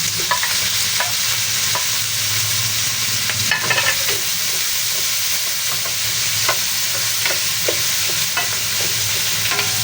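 Garlic and tomatoes sautéing together in a pan for ginataang gulay with sitaw and kangkong, a continuous close sizzle with scattered crackles and utensil scrapes throughout, no speech.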